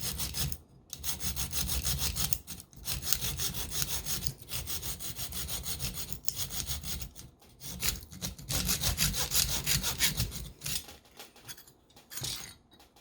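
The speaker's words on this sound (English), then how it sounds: "I'm going to start sawing on both ends until it starts coming through" A hand saw rasps steadily back and forth through wood, cutting a groove for an arrow trade point, in quick, even strokes, pausing briefly now and then before resuming its close, gritty rhythm.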